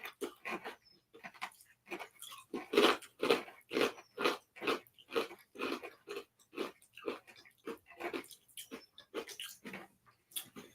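Steady, rhythmic crunching of crunchy seasoned fried rye chips being chewed close to the mic, roughly two bites per second, fairly quiet, with no talking.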